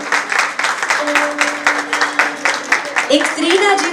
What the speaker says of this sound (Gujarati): તો બધા એની તાળીઓનો ગડગડાટ છે મને સંભળાવવો જોઈએ